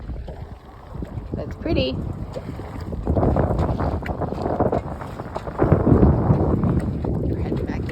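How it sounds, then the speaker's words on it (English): Wind of 10 to 12 knots sweeps across water with whitecaps while a sailboat is under way, buffeting the microphone in loud, gusty rushes. A voice speaks briefly near the start. "Got 10 or 12 knots of wind. Nice white caps."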